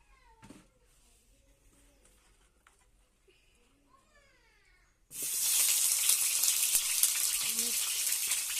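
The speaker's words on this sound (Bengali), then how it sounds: "যে আবার তেল দিয়ে দিল। এবার সবজিগুলো ভেজে নেবে।" Vegetables (pointed gourd, drumstick, green banana and potato) hit hot oil, and a loud, steady sizzle erupts suddenly and fills the second half. The quiet stretch before it holds faint kitchen sounds and a cat meowing.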